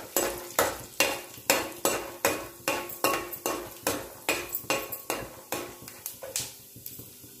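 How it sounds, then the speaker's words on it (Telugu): Peanuts and urad dal fry in about four tablespoons of hot oil in a pot for tempering, with a steady sizzle under a brisk, regular rhythm of a dozen or more spoon-against-metal stirring strokes. "తాలింపు కోసం పల్లీలు, మినపగుండ్లు వేసుకొని వేయించుకోవాలి."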